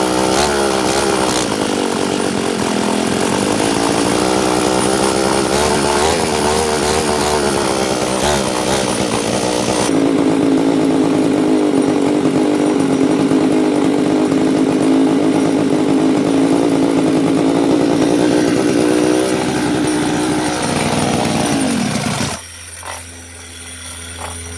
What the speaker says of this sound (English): I'm giving it just a little bit of throttle, and you can see kind of as the RPM goes higher, it starts to actually die out because there's too much fuel.